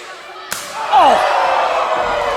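A single sharp, loud slap rings out in a wrestling ring, followed at once by a swelling crowd roar that holds steady to the end.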